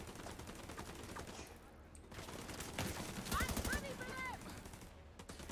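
Automatic M416 rifle fire in the video game The Division 2, heard as dense, rattling bursts mixed with game effects and a brief electronic chirp, all under a busy, continuous combat soundscape.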